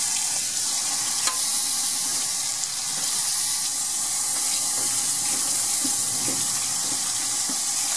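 Water runs steadily over a pre-coated blackout cloth screen as soap is rinsed off, giving a constant close hiss and splash like a faucet filling a sink, with no pauses or talk.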